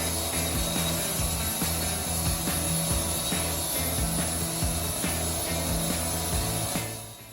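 A Wood-Mizer 1000 bandsaw mill cuts through a massive oak log into thick slabs, a loud continuous mechanical drone with a steady engine hum and blade whine that tapers off near the end.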